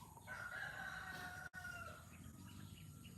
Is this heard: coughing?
no